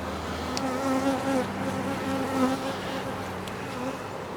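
A colony of honeybees buzzes steadily and close during a hive inspection, a dense continuous drone with wavering tones and no talking.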